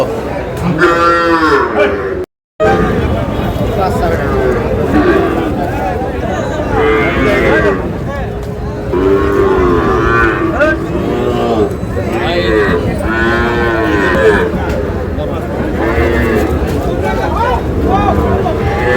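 Sahiwal bull calves moo repeatedly, long drawn-out calls from several animals, close and loud, with people talking amid a busy crowd at a cattle market in Cumilla.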